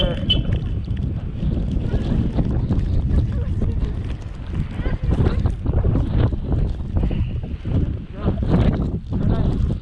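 Strong gusting wind from a spring snowstorm in Astana, Kazakhstan roars and buffets the microphone nonstop, a loud rumbling whoosh with a voice faintly underneath.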